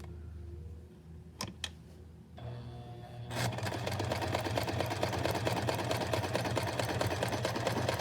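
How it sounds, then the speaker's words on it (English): A sewing machine stitches an invisible zipper onto fabric, starting with a few quiet clicks and then settling into a steady, close, rapid mechanical whir that runs to the end. "Then I'm just gonna sew this down."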